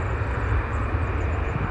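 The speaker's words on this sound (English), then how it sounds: "No messing around, straight out for this EasyJet to Geneva." EasyJet Airbus A320 departing for Geneva from Bristol Airport, a brief steady engine rumble with a low throbbing core and broad hiss, heard alone without talk.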